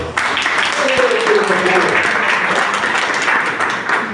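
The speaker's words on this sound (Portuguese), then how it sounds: "Vamos lá aplaudir essas corajosas?" A crowd applauds with steady, dense clapping during a church sermon, holding for several seconds while a voice speaks over it.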